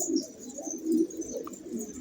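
Pigeon cooing in a loft housing a flock of male pigeons, soft low repeated coos in a steady rolling rhythm, fairly close, with no talking.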